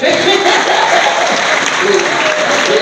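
A church congregation bursts into loud, close, continuous applause, thick overlapping clapping at full volume for the whole stretch.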